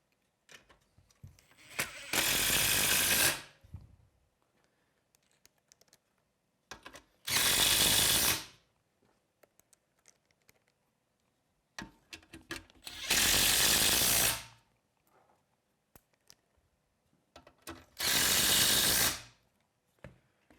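A power tool drives churro bolts into a chassis frame in four separate bursts of loud whirring, each lasting one to two seconds, separated by quieter stretches of faint clicks and handling noise.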